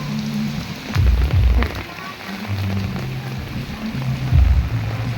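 Heavy rain falls outdoors on a walk to the grocery, a loud, steady wash of hiss and patter with low rumbling undertones throughout.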